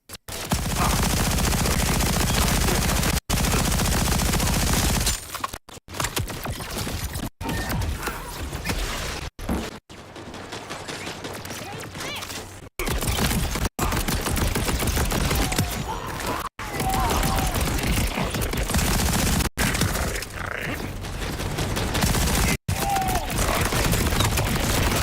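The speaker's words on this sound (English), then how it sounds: "I guess we'll switch to the SMG." SMG fire in the Borderlands 4 video game comes as loud rapid automatic bursts, nearly continuous and broken by a few short gaps and brief pauses, with mechanical clatter between volleys.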